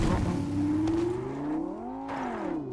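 A Lamborghini Aventador engine in a racing video game revs, its tone sweeping upward, dipping, then climbing again in a smooth whining rise, loud and close with no talk over it.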